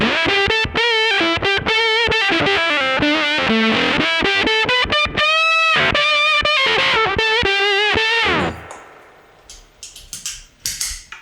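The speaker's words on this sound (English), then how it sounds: "You see that's a really usable octave fuzz." An electric guitar plays a lively phrase through the octave fuzz of an OPFXS V UNO multi-effect stompbox, buzzy, loud and saturated, ending in a decaying, crackly tail.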